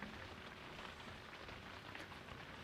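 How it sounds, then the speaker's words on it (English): Very light rain falling over a campsite on lake ice, a faint, even patter and hiss that runs steadily throughout with no voices. "It's like very, very light rain."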